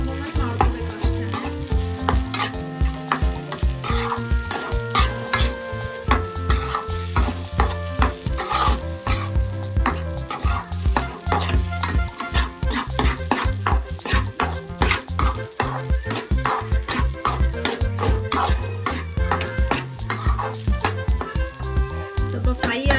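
Egg rice is fried and stirred in a pan: a steady, loud sizzle with frequent close scraping and stirring strokes that runs continuously, with no voices.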